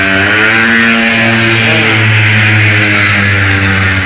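A loud car engine with a worn-out muffler revs steadily and drones close by for about four seconds, its rough exhaust note rising and falling slightly with no talking over it.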